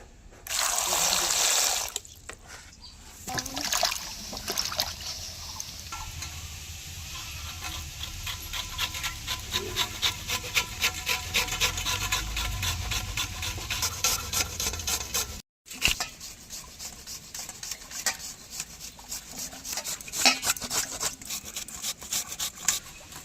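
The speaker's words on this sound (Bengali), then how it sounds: "এবার আমগুলো কুর্নির সাহায্যে কুড়ে নেব।" Ripe mango flesh being scraped against a kurni grater, a busy rasping, wet scratching that runs nearly continuously up close, with a loud burst at the start and a short pause midway.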